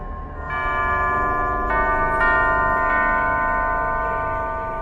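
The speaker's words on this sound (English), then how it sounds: "Only by playing the correct sequence of bells can it be opened." A sequence of bell tones rings out one after another in Alice Madness Returns, clear sustained chimes layered and overlapping over a low ambient rumble, with no talk.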